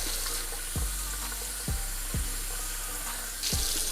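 A hot water tap runs steadily into a sink, a constant rushing stream broken by several low thumps.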